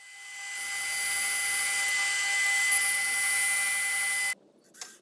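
A bandsaw cuts through MDF with a loud, steady high-pitched whine and hum that holds for about four seconds and then stops abruptly, leaving a faint brief rattle.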